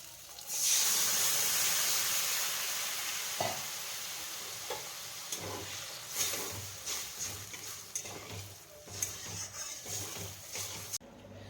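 Boiled tarka lentils with peas poured into a hot pan burst into loud sizzling hiss, followed by bubbling and stirring clatter that fades and pulses for several seconds.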